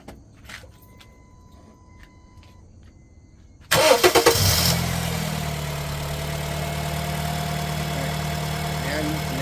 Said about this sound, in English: I'm gonna start it up. Let it run.